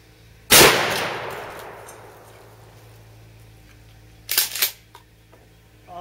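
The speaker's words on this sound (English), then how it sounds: "Again, I'm shooting double aught buck." An H&R pump-action shotgun fires a round of double aught buckshot, one loud, close blast with a long echoing decay. A few seconds later comes a quick mechanical clatter like the pump being worked.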